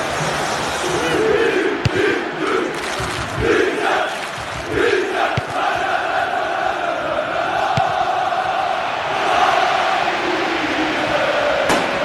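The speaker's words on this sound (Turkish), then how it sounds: "Kaleci alkış alıyor." Large stadium crowd at a Turkish Süper League football match between Çaykur Rizespor and Trabzonspor, roaring and cheering for the goalkeeper, a dense continuous swell of many voices with occasional louder shouts rising over the din.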